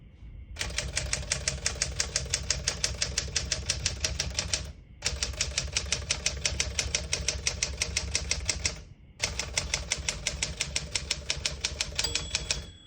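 Rapid, even keystrokes clatter on a 1965 Smith-Corona Sterling portable manual typewriter in three long runs separated by brief pauses, and a bright margin bell rings near the end.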